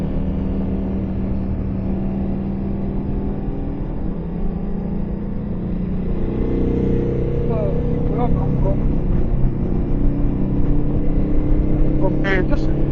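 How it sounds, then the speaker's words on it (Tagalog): A motor tricycle goes past on a road in the Philippines, its engine drone rising and swelling through the second half amid steady road rumble and wind, with people talking over it. "It's a tricycle."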